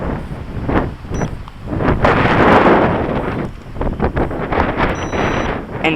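Strong wind buffets the microphone outdoors while an Eachine H8 Mini quadcopter drone flies, producing loud, rough rumbling gusts that rise and fall unevenly, heaviest in the middle, with a faint high whine from the small drone underneath.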